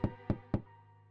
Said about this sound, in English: Door's locked.